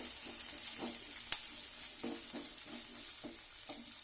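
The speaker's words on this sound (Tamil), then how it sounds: "நம்ம சதைச்சி வச்ச பூண்டு, கொஞ்சம் கருவேப்பிலை இது மேலே போட்டுக்கலாம். அப்படியே கொஞ்சம் வதக்கி விட்டுட்டு" Crushed garlic and curry leaves sauté in a pan, giving a soft, continuous sizzle with light rhythmic stirring strokes and one sharp clink, close but quiet.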